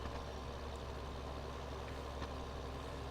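Constant low engine rumble from a Massey tractor in the farming game Sandy Bay Farm, idling steadily and evenly with no speech.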